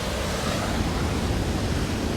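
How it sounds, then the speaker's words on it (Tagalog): Strong ocean waves break on a rocky shore at Red Rocks Reserve, New Zealand, a dense, loud, continuous surf roar with wind buffeting, no talk. "Ang lakas ng alon"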